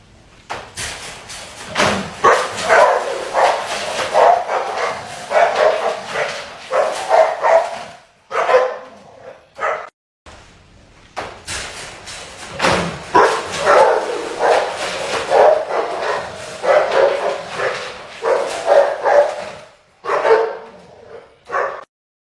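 Several dogs barking around a kennel, loud, close and persistent in rapid overlapping bursts, with a short lull and a door slam before the barking resumes.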